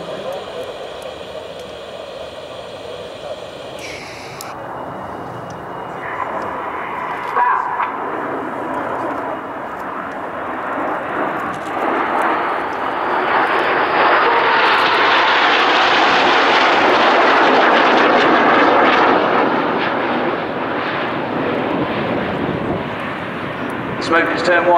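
Red Arrows display jets roaring overhead at an air show, a loud engine rumble that builds as the aircraft approach and peaks in a sustained roar before easing, with a commentator talking over it.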